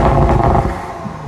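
Engine note of an Audi RS5 Sportback with a 2.9-liter turbo V6, a loud, steady low rumble heard up close, easing off slightly toward the end.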